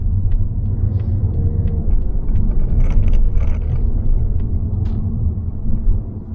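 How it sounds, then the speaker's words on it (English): Continuous low rumble of car tires rolling on pavement at low speed in traffic, heard from inside a Mazda, with steady road noise and a few faint clicks. "when you go on lower speeds, you do get a bit of vibration or the noise from the tires"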